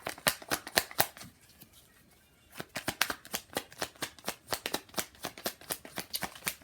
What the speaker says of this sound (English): I feel like the cards be loud when I'm shuffling.